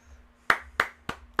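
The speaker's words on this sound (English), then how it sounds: "Just had to clap again." Four sharp, evenly spaced hand claps from one person ring out close and crisp over a low hum, with no speech.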